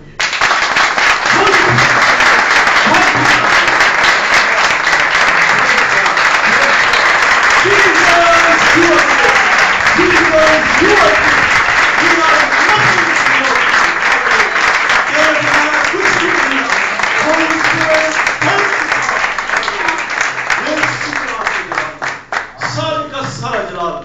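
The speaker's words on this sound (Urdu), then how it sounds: "اس یسوع کے لیے بھرپور تالیاں بجائیے." A church congregation in Sharjah, UAE, breaks into loud, dense applause during a sermon. It holds steady for more than twenty seconds before thinning out at the end, with voices calling out over it.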